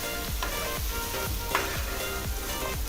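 Masala paste sautés for Kolhapuri mutton rassa, a dense continuous sizzle with a few soft scraping stirs, close and fairly quiet, no voices.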